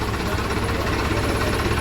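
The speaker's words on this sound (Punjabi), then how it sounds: "ਦੇਖੋ ਟਰੈਕਟਰ 969 ਹੈ" A model 969 tractor engine runs steadily at idle, a loud continuous low diesel rumble with knocking texture, close by and without talk.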